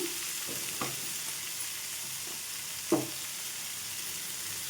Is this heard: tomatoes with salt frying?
yes